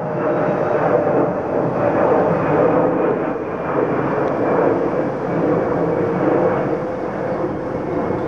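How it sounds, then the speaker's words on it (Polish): Airplanes passing over a quiet valley nature reserve near Balice airport, a loud, steady broadband roar sustained throughout with no talk. "co pewien czas słychać przelatujące samoloty, niedaleko jest lotnisko Balice"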